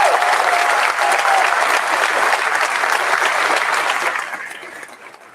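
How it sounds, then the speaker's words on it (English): Loud sustained applause from a large audience at a high school graduation ceremony, steady for several seconds before fading out at the end. "Let's thank them with a round of applause."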